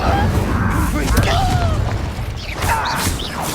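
The Incendio fire spell cast in Hogwarts Legacy bursts with a loud booming whoosh, layered with game effects and a voice speaking over it.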